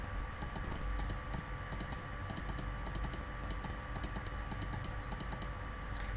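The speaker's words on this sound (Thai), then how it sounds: "ดับเบิลคลิกที่ลาเบลเลย" Rapid clicks come in quick regular pairs over a steady background hum, from a mouse double-clicking on labels in a program on a computer.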